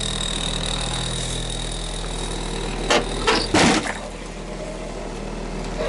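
A revived Acura Integra (DA9) engine idles steadily with a continuous low hum throughout. A few sharp clunks and rustles break in near the middle. No speech is heard.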